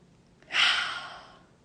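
One deep breath drawn in through the nose or mouth: a soft, close, airy rush about a second long that swells quickly and then fades.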